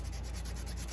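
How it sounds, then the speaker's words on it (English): The rough side of a sanding sponge rubs across wood in quick, soft back-and-forth strokes, a quiet close scratchy hiss repeating several times within a second. "I always start off with the rough side and just kind of, this stuff sands really nicely"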